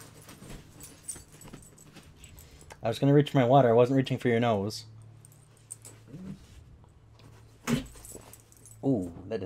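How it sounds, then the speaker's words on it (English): A dog whines in a long, wavering, high-pitched whimper lasting a couple of seconds, close by, with someone talking before and after it. "What are you whining about?"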